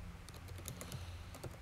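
Quick, faint keystrokes on a computer keyboard, a short burst of light clicks in uneven rhythm over a low background hum.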